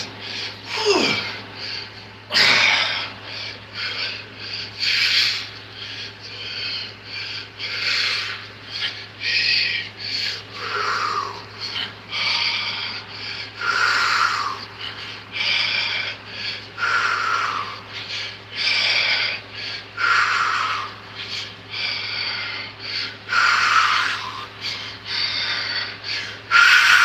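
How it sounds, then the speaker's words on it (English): Exaggerated, forceful breathing during exercise, a long series of loud, rhythmic breaths and wheezy exhales repeating every second or so, close to the microphone. "Now you hear that breathing, that's intentional"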